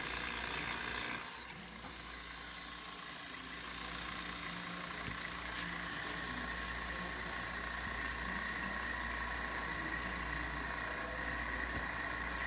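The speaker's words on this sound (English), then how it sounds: "we'll go ahead and open up the vacuum valve" A vacuum valve opened on a house vacuum setup for a Charles Ross DPM 2 mixer: a short burst of air, then a steady broadband hiss that continues with a faint mechanical hum underneath.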